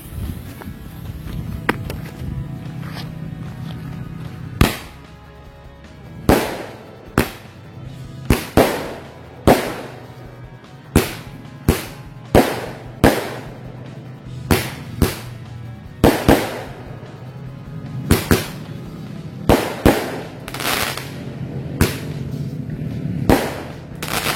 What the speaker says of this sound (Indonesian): kita nyalakan mercon Roman candle 5 lesutan sekaligus 2 piece nih teman-teman